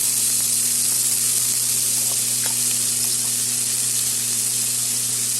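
Diced potatoes sizzle in hot oil with salt for a Bengali aloo chorchori, a steady, loud hiss that runs unbroken from start to finish with no voices.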